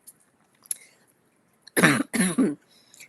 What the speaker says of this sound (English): I've had a bad cough, so excuse me.